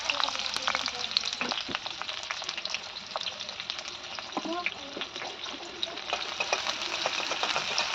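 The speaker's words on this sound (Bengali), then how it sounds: "এখন তেলটা গরম হয়ে যাওয়ার পর এখানে আমি দিয়ে দিব পেঁয়াজ আর মরিচ যেগুলো আমি কেটে রেখেছিলাম" Onions and chillies fry in hot oil in a wok, a steady close sizzle with scattered crackles and stirring clicks throughout.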